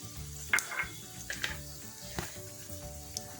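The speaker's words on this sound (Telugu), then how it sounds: "రెండు స్పూన్లు ఆయిల్ వేసుకొని ఇవి కొంచెం జీలకర్ర వేసుకుందాము" Cumin seeds hit hot oil in a pan and sizzle softly, with faint crackles and a few sharper pops and stirring scrapes over a quiet frying hiss.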